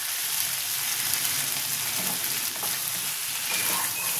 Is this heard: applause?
no